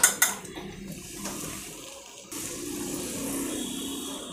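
A metal pot lid is lifted off a pot of freshly cooked sambar rice with a couple of sharp clinks at the start, followed by a soft steady hiss, no talking.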